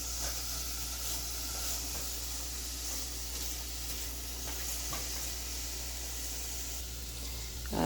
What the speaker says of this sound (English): in the pot, I have melted butter, and I'm going to go ahead and saute these 2 apples